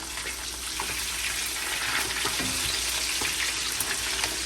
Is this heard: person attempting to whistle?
no